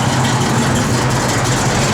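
A 1967 Chevrolet Camaro small block V8 idling with an aftermarket cam, a loud, continuous low rumble heard up close with a slightly uneven lope.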